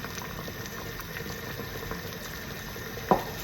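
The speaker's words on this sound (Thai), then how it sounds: "ตอนนี้น้ำก็เดือดแล้วนะคะ" A pot of water at a steady rolling boil while cooking Thai rice dumplings, a continuous soft bubbling hiss heard up close, with one brief clunk near the end.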